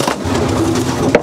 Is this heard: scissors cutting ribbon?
no